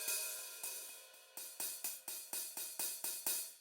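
A Roland TD-15 V-Drums electronic hi-hat played slightly open, about a dozen bright metallic sizzling strikes, each decaying quickly, in an uneven then steady rhythm, close and alone.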